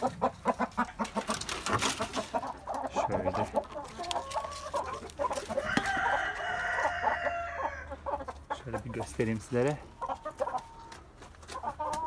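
Chickens, including Ispenç birds, cluck steadily nearby while a rooster crows in the middle, with someone talking intermittently over the birds.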